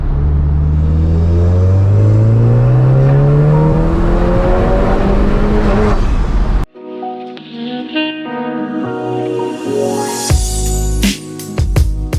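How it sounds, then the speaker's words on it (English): A Volkswagen Golf R fitted with a CTS Turbo intake pulls hard in third gear: a loud, rising engine roar for several seconds, then a sharp cut to lower, rumbling engine tones and whooshing turbo and intake noise. "right, here we go. Third gear pull,"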